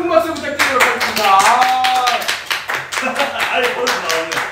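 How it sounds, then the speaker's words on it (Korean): Guests at a bar party clap during a cake cutting. The clapping is moderate and rhythmic, with voices calling out and cheering over it throughout. "다시 한번 큰 박수 부탁드리도록 하겠습니다"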